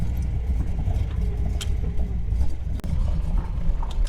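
An LS V8 swapped into a Nissan 300ZX runs with a loud, rough idle, giving a close, steady low rumble with a few small clicks and no speech.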